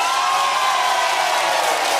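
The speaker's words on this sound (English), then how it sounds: "Ladies and gentlemen, loudest applause wins." Studio audience applause and cheering on a rock music quiz show, a dense, steady roar of clapping with crowd noise held at even loudness throughout.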